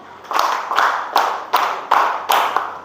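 Hand clapping in unison during a classroom ice-breaking clap-count game: six crisp, evenly spaced claps, each with a quick decay, moderately loud and near, no talking.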